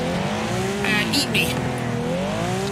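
A car in the racing game Wreckfest drives forward, its engine droning steadily with a brief tire squeal, while a voice talks over it throughout.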